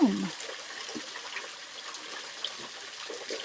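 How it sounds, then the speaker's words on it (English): Water flows steadily from a small waterfall in the Japanese garden at Marqueyssac, a continuous soft rushing close by outdoors. "I think I could just stand here listening to the sound of the water."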